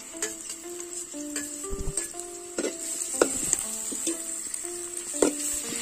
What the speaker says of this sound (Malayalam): ഇനി നമുക്ക് ഇളക്കിക്കൊണ്ടേയിരിക്കാം